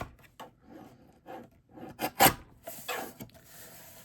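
A paper trimmer cutting small pieces off the corners of card packaging, giving a series of short close rasping and scraping strokes, with one louder sharp cut near the middle.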